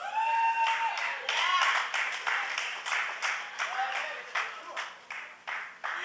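A graduation ceremony audience for the Class of 2023 at Nevis Sixth Form applauds in rhythmic, fairly loud clapping, with voices calling out over it near the start.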